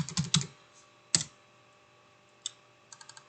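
Keystrokes on a computer keyboard while entering text into a spreadsheet cell, a quick burst of clicks followed by a lone press and a short tapping run, close and clear with no talking.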